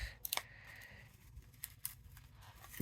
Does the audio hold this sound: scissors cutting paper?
yes